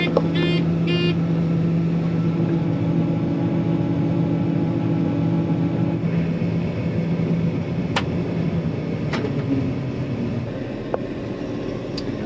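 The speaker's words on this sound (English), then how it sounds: "I'm loading trucks in my backyard." A truck engine runs steadily in a backyard while grain trucks are loaded on the first day of wheat harvest, a constant close rumble with a few sharp clanks and brief higher squeals over it.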